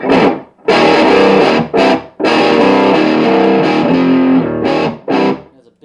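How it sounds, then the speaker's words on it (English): A VHT Special 6 Ultra guitar amp with the gain cranked and wattage raised, loud, heavily distorted chords played in several bursts separated by short pauses, slightly clipping. "There's a big open distortion."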